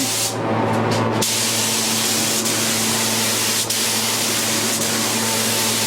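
Wood stain color sprayed onto an entry table, heard as a loud, continuous hiss of the sprayer, close up, with a brief sputter at the start and a few faint clicks.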